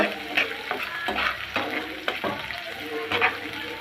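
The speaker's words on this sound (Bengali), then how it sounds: "কাঁচামরিচ ফালি পেঁয়াজ কুচি একটু ভেজে নিব" Sliced green chilies and chopped onion frying in a pan, a busy close sizzle with repeated spatula strokes and scrapes in an uneven rhythm, fairly loud, no speech over it.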